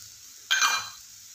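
Ground spices such as turmeric, coriander, garam masala and pav bhaji masala hitting hot oil in a pan, giving a sudden close sizzle that flares for about half a second and then fades quickly.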